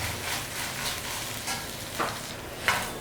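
Onions and ginger garlic paste sautéing in a pan for a mutton liver green masala fry: a low, even crackle under periodic scraping strokes of a spatula, fairly quiet and close.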